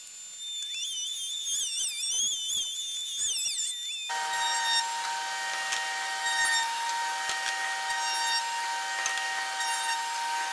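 A router bit cutting a 45-degree chamfer along the edge of a wooden workpiece in shallow passes, a loud steady high whine preceded by warbling tones, continuous and close for about ten seconds.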